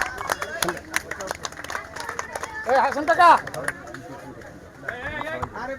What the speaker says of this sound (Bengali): আমাদের ক্লাবের সিনিয়র সদস্য সবাই হাততালি দিয়ে